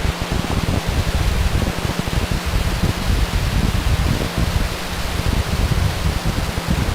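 Falcon 9 rocket engines at liftoff, a steady, dense broadband roar with deep rumbling low end, sustained and even throughout like a continuous wall of noise.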